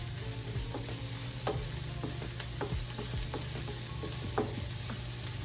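Onions and peppers sizzle steadily in a hot pan for a cabbage noodle stir fry, with scattered clicks and scrapes of stirring over the continuous frying hiss, close up and without speech.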